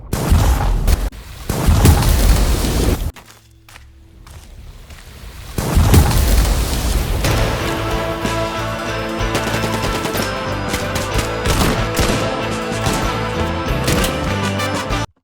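Layered gunshot sound effects for a game trailer: loud, punchy bursts and booms with rapid, machine-gun-like firing, a brief quiet gap, then dense, sustained layered impacts and tones.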